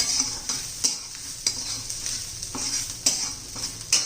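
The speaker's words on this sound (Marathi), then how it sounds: "चिंच घातल्यावर एक दोन मिनटं चांगलं परतून घ्यायचं आहे आपल्याला" Tamarind and onion sauté in hot oil in a pan: a continuous sizzle broken every half second or so by a sharp scrape of stirring, close and clear with no talk.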